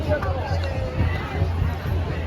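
A dense crowd packs a temple festival in Kokan, filling the air with a close, steady babble of many voices and shuffling movement, with people talking nearby.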